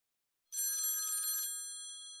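A telephone bell rings loudly in one burst of about a second, then fades away, with no voices.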